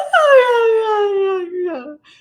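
A person imitates a whale with a long, drawn-out descending moan, a single sustained vocal wail that sinks in pitch and ends in a short wavering tail, loud and close.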